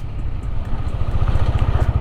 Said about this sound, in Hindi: बाकी यहाँ पर इस एरिया में ब्रेक टेस्ट करके दिखाएं